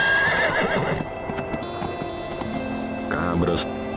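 Horses as an audiobook sound effect: a loud whinny at the start, then rapid clip-clop hoofbeats of several horses galloping, another neigh near the end, heard under a narrator's voice.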